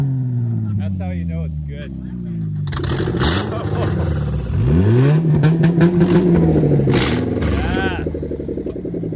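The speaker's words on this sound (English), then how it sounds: "Rev her up!" A demolition derby car engine revs hard and loud at close range, rising and falling in surges over crowd cheering and excited voices, with a rough, throaty roar filling most of the moment.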